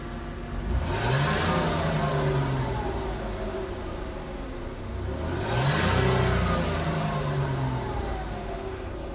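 A 2003 Ford Escape 3.0 engine revs up twice in a row, each rise and fall clear and close, over a steady idle with no talking.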